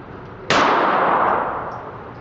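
A single sharp shot from a Sig Mosquito .22 caliber pistol, a sudden loud crack followed by a ringing, slowly fading tail at close range.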